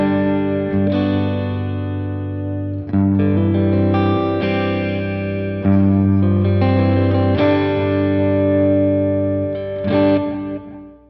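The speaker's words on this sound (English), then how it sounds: "so you can hear the reverb and the delay in their full fidelity" Sustained distorted guitar chords ring out through a Sonicake Levitate reverb and delay pedal, recorded with a ribbon mic, with lush reverb and echoing delay trails, changing every few seconds and blending into a wash of sound.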